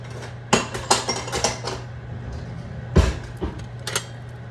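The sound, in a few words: stirring lentils into soup in a pot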